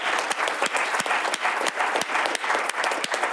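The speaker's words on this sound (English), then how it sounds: "if we could just give them a round of applause." A board of education meeting audience claps for the Wilson Wildcats team in a brief, dense burst of applause, steady and fairly close, with no talk over it.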